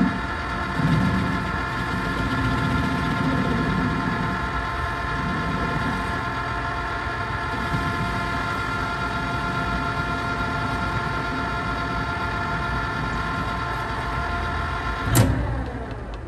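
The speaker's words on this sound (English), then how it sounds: "Changing the spindle speed from 240 to 415 RPM in order to face off the bar." Metal lathe with its spindle running at 415 RPM while facing a bar held in a 4-jaw chuck, a steady mechanical whine and hum throughout, with one sharp metallic clank near the end and no talking.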